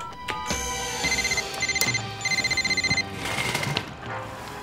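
A telephone rings in three short bursts of rapid, trilling electronic bell tones, loud and close, separated by brief pauses and followed by a clattering handling sound.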